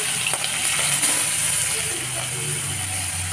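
Hilsa fish pieces and green chillies sizzling in hot oil in a home kitchen pan, a steady broadband hiss with faint clicks and low hum, continuous throughout.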